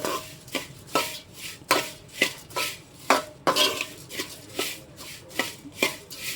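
A spoon scrapes and clatters against a pan again and again as fried flattened rice (aval) with sugar is stirred, giving close, regular metallic strokes about twice per second with no talk.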